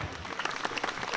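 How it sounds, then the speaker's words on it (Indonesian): Women of the PKK group applaud in an outdoor Balinese Calonarang performance crowd at Setra Pura Dalem, Suralaga, a brief, dense burst of clapping with faint voices beneath. "Ibu PKK tepuk tangan"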